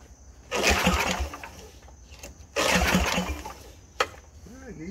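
A small engine cranked with the choke partly open sputters briefly in two loud bursts, then pauses, followed by a sharp clank near the end.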